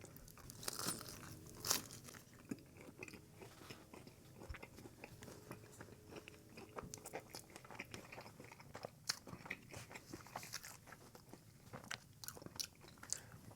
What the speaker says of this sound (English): Gonna go for a bite.